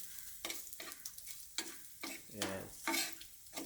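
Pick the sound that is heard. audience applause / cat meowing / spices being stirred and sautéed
spices being stirred and sautéed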